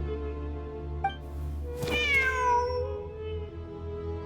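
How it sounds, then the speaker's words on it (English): A cat in the video game Genshin Impact gives one clear, drawn-out meow over a steady hum of game background music, with a brief chime just before it. "Wait, there it is! The cat!"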